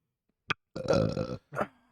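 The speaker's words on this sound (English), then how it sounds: "Didn't get all my belches out earlier." A man lets out a loud, close belch after eating pork chops: a short click, then a long guttural burp, followed by a brief second grunt-like burst.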